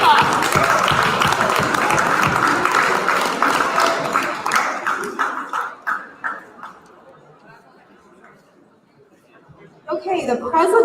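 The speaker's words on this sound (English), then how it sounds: "So we'll give them a round of applause." Audience applause for school students receiving awards at a high school awards day, loud dense clapping that thins out and fades to near silence, then a brief burst of sound returns at the end.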